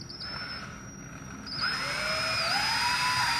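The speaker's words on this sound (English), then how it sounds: "And then I'm going to drill through." Power drill whining as it bores through a six-cup tumbler turner, the high motor tone starting, dipping briefly, then ramping up and holding steady and close.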